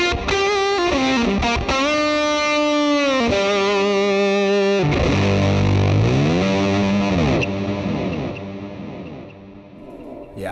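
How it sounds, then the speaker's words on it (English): Electric guitar played through a Fender Mustang GT amp with fuzz, delay and reverb, giving thick sustained distorted chords that bend and swell, with echoing tails fading out toward the end. "Nice delay, nice reverb, and a big fat fuzz sound."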